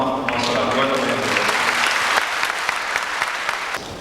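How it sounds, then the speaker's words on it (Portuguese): Warm audience applause greeting a morning lecturer at a spiritist talk, dense steady clapping from a crowd filling the room for the full stretch without pause. "vamos receber com aquela calorosa salva de palmas o nosso orador da manhã"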